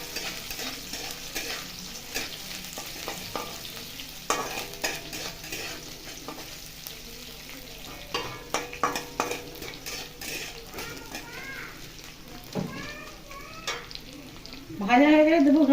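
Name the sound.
chopped garlic and onion frying and being stirred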